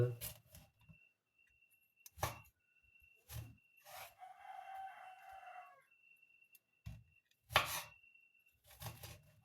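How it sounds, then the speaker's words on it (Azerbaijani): A knife taps sharply against a cutting board in scattered single chops as apples are finely diced, with a rooster crowing faintly in the background partway through. "belə bu şəkildə hamısını xırda-xırda doğrayırıq"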